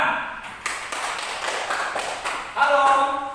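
Children clapping hands in a primary school classroom, a brief patter of claps of moderate loudness with a few sharper taps and a short tonal chime near the end.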